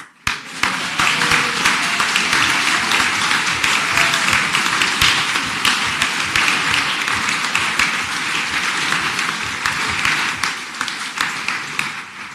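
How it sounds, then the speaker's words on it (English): A large audience at an ATU Connemara university graduation conferring applauds loudly and continuously after the tassel turning, a dense, sustained roar of clapping that holds steady before tapering slightly. "I think that deserves a round of applause"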